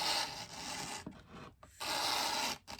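A tool scrapes over a badly chalky old guard in a few close, raspy bursts separated by short gaps. The scraping is loud and gritty, and no one talks.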